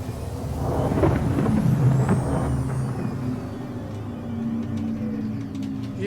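Spaceship landing gear retracting in Star Citizen, a deep rumbling mechanical whir with low hum and rising tones, loud and steady through the first half, then easing off into softer ambient hum.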